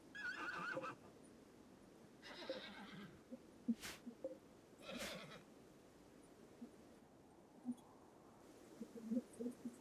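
Horses in the RimWorld video game whinny in short bursts over a quiet background, several separate calls spread across the stretch along with faint clicks and scattered soft sounds.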